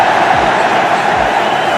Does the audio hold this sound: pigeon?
no